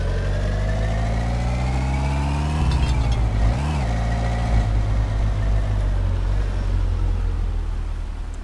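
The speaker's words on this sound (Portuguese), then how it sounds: "Estacionar o carro." A car engine in the driving game My Summer Car drones loudly and steadily, with pitch falling as it slows, a brief rev bump midway, then settling into a lower rumble while parking.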